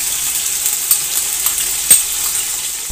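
Garlic, ginger and green chili paste frying with browned onions in a pot for chicken yakhni pulao, a steady bright sizzle with a couple of sharp spoon clinks and stirring scrapes.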